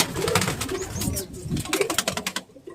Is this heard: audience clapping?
no